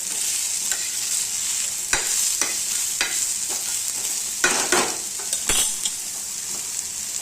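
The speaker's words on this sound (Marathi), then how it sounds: "कांदा पण चांगला ब्राऊन कलर होईपर्यंत भाजायचा आहे" Onion and spices frying in a pan for egg curry, a continuous hiss of sizzling broken by repeated scraping strokes of a spatula stirring, close and clear.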